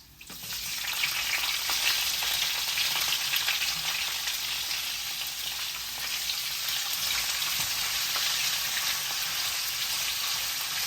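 Red onions and large onions fry in hot oil in a pan, a loud, dense, steady sizzle that starts abruptly and holds evenly throughout, with no talk.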